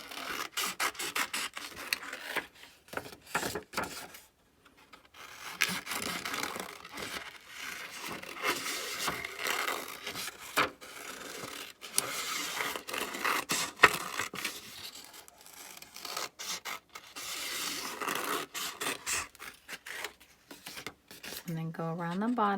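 Scissors cut paper for a classroom craft, a steady run of quiet snips and rasping scrapes as a person talks over them.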